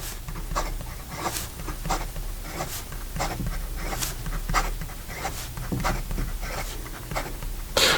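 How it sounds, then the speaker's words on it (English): A Monteverde Regatta Sport fountain pen writes fast on paper, producing close, rhythmic scratchy strokes that repeat in quick bursts against a soft background hiss. "And then in regard to some fast writing,"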